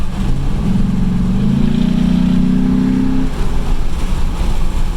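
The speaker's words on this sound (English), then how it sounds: "And the Raptor sounds so good with the new Corsa exhaust" A Ford Raptor truck fitted with a Corsa exhaust drives close by, giving a deep, loud rumble that swells into a sustained revving drone and then eases back.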